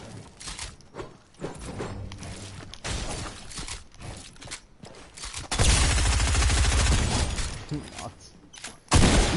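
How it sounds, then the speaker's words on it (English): Gunfire and grenade blasts in the video game Fortnite come as bursts of rapid shots and heavier booming explosions, loud and close, under excited voices talking. "He just trying to chuck some grenades"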